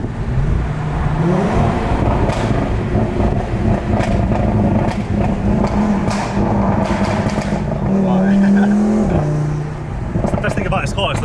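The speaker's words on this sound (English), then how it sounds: "Best thing about this car is the noise. Like, There's such a unique sound, 5-pot." A hybrid turbo Audi RS3 with a five-cylinder engine drives while its engine drones and rises in revs, loud and close, with a clear swell near the end. People talk over the engine note throughout.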